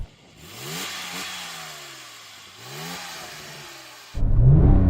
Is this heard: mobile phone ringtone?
no